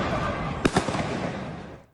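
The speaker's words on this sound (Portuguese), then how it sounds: "Uma testemunha gravou a correria e o som dos tiros." Two sharp bangs in quick succession ring out over steady background noise and distant commotion.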